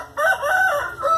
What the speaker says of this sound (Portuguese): Briga de garnizé com cachorro, ó.